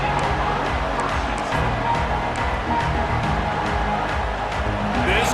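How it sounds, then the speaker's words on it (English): A stadium crowd roars in a college football video game during an online ranked match, a broad, continuous swell of cheering that sits under game commentary throughout. "This crowd still bringing the intensity to open the second half"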